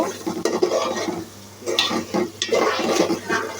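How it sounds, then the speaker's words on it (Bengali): Meat goes into a pot of fried spice masala, bringing close, uneven bursts of sizzling mixed with stirring and scraping in short irregular surges. "এখন আমি কষানো মশলাটার মধ্যে মাংসটা দিয়ে দিব"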